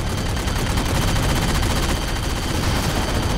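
The cannon on a Pelican dropship in the Halo 4 video game fires continuously. It makes a loud, dense, rapid rattle of shots that runs unbroken and close throughout, with no talk over it.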